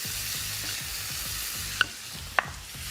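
A steak cooking in a pan of marinade gives a soft, continuous sizzle close by with a low bubbling pulse, and two sharp metallic clicks stand out near the end; no one speaks.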